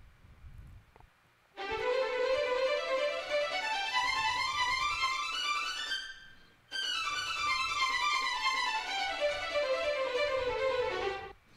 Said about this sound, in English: This is the sound of only the spiccato overlay of Marcato.